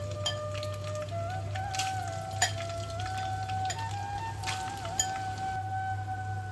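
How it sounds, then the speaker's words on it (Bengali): Soybeans fry in hot oil for a soybean curry, giving a steady sizzle across the whole stretch with a few sharp pops and spatters on top and no talking. "আমি প্রথমে সয়াবিনগুলোকে একটু ভেজে নেব"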